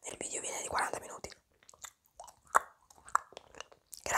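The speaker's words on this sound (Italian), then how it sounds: "Questa è la caramella. Adesso io la mastico" Hard candy is chewed close to the microphone with wet crunches and biting clicks, mixed with whispered speech in an ASMR setting.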